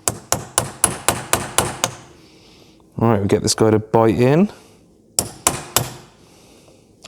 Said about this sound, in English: Yes, this is a claw hammer.